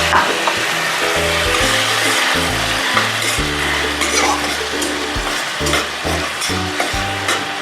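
Prawns and ridge gourd fry in hot oil in a pan, a loud continuous sizzle broken by repeated stirring scrapes and knocks, with no talking.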